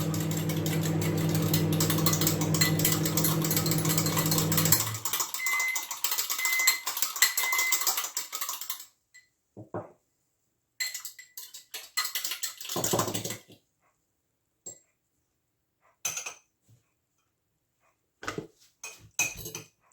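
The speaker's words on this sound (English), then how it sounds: "I'll just whisk in that jar" A teaspoon rapidly whisking flour in a glass jar, a busy clinking rattle for about nine seconds, then scattered short taps and scrapes with pauses between.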